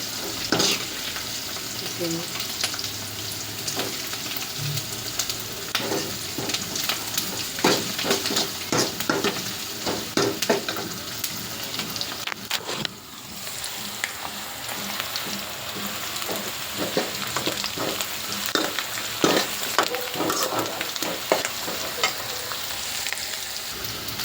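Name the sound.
frying ingredients in a pan for dry fish curry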